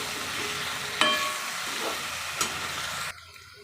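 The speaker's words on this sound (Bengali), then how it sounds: "তো আলুগুলোকে একটু ভেজে নেব, ওতে একটু নুন দিয়ে আলুটাকে ভাজবো।" Potatoes with salt fry for aloo posto, giving a steady close hiss with a couple of sharp stirring clatters before the sizzle cuts out near the end.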